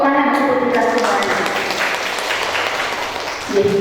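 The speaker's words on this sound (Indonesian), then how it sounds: "Tepuk tangan untuk kita semuanya." Participants at a public speaking workshop break into a brief burst of applause. It rises as a speaker's voice fades and dies away as talk returns near the end.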